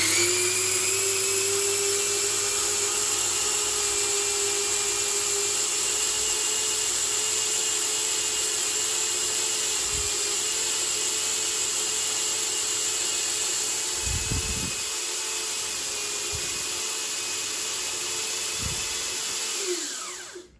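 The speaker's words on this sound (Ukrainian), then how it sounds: "кавомолка меле зерно" A partly disassembled Saeco Incanto coffee machine grinder, with its burr removed, runs as a steady loud whirring drone with a high whine for about twenty seconds, then cuts off abruptly at the end.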